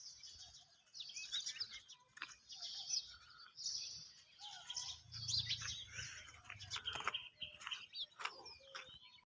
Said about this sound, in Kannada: ನೋಡ್ರಿ ಎಷ್ಟು ಚಂದ ಹಕ್ಕಿ ಸೌಂಡ್